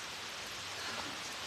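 Spray from a garden hose patters onto a giant umbrella hat, a dense, continuous rain-like hiss that stays even and close for the whole short stretch.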